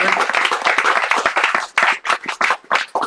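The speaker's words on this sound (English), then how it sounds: "Let's give Peter another round of applause for a wonderful evening." Audience applause after a hybrid poetry reading, a burst of clapping that thins into scattered claps and dies out, then picks up again in short separate rounds.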